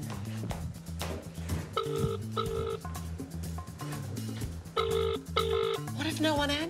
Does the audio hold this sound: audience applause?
no